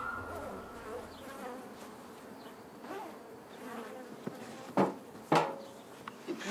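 Honey bees buzz around a beekeeping family, a dense, steady insect drone close by, broken near the end by a few sharp wooden knocks.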